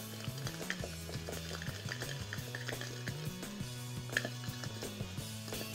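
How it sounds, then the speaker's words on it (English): Cookie mixture is whisked in a bowl in a Lalaloopsy kitchen game, with soft rhythmic stirring clicks over a bouncy, stepping background melody. "Take your whisk and stir the mixture around a bit."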